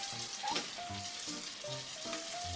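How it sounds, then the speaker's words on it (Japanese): Homemade gyoza fry in a pan over medium-low heat as their water cooks off, giving a steady close sizzle with faint thin whistles and occasional soft pops. No one speaks. "中火と弱火ぐらいの間にして、この水分が飛んだ状態まで焼いてあげます"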